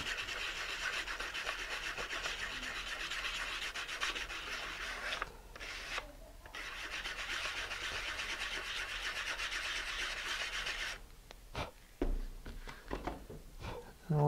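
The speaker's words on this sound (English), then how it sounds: "it leaves a little burr on the inside, and I got a little file" A small metal file rasps around the burred inside edge of a freshly cut tube with steady, continuous scraping strokes. It sounds close and fairly loud, with a few brief breaks and clatters near the end.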